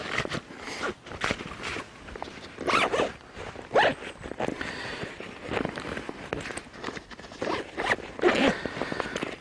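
Zipper on a Tasmanian Tiger Mission Pack pocket with mesh lining, pulled open and closed in several quick raspy strokes with short pauses, close and clear.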